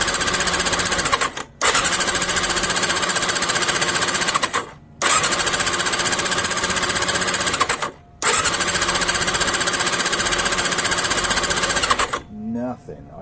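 A Yamaha Fazer motorcycle engine cranks hard with the choke fully on, three long loud churning bursts broken by short pauses, then a brief faint stutter at the end.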